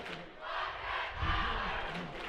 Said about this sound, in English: the crowd right now from both teams going at it